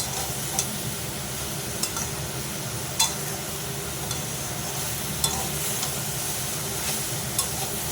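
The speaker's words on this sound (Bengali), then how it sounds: "আর 2 মিনিট আমি কষে নেবো এইভাবে।" Sponge gourd and lentil fritter curry sautéing in a pan, an even close sizzle with occasional light spatula clicks spaced every second or two, no voices.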